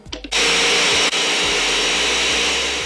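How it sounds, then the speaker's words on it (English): Blender whirring through a green smoothie made with water: a brief clatter, then a loud, steady motor roar that holds for over two seconds with a short dip partway through, and no voices. "All you have to do is blend it."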